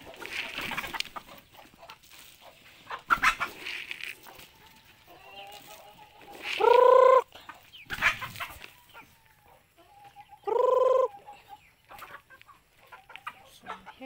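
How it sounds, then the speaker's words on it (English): Chickens clucking at feeding time in a backyard garden: scattered soft clucks and rustling, broken by two loud close squawking calls, with faint talk underneath. "So, feeding time to the chicken."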